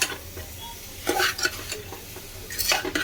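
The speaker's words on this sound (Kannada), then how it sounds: "ಉಪ್ಪು ಸೇರಿಸ್ಕೊಂಡು ಹ್ಞೂ ಇದನ್ನು ಚೆನ್ನಾಗಿ ಮಿಕ್ಸ್ ಮಾಡ್ಕೊಳ್ತೀನಿ" A salted mixture for a festive Ugadi meat meal is mixed in a pan, giving intermittent close scraping bursts over a low sizzle with quiet pauses between strokes.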